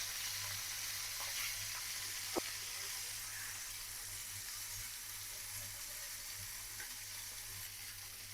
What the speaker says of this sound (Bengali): মাছ ভাজা হয়ে গেছে, আমি উঠাই নেব।